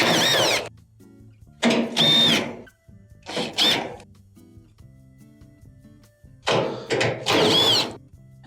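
Power drill backing screws out of a Maytag dryer's blower housing, several short whirring bursts separated by pauses, close and fairly loud, with faint clicks and shop hum in between.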